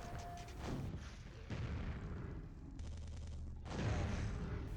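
Gunfire and booming blasts in a first-person video game fighting Death Knights, several heavy shots and thuds over about five seconds with mechanical clatter, loud and close with no talking.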